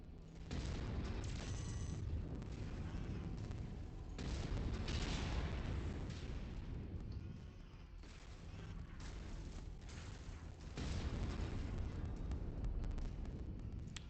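Missile fire and explosions in the MechWarrior 5: Mercenaries video game, heavy booming blasts and rumbling impacts rolling continuously in overlapping waves.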